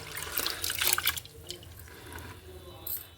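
Soaked rice and lentils being rinsed in water for dosa batter, with splashing, dripping and running water, loudest early on, then quieter swishing and trickling close by.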